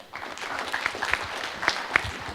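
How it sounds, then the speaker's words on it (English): Applause at a technical session of an MSME startup conference: a hall audience claps steadily, moderately distant, with a few sharper claps standing out. "A huge round of applause, please."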